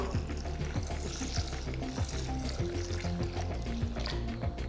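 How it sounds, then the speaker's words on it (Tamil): Lentils being washed in water slosh and splash steadily in a bowl or sink, with light clinking and swirling throughout, close by and fairly quiet. "இது நல்லா 2-3 வாட்டி கழுவிட்டு தேவையான அளவு தண்ணியை ஊற்றி"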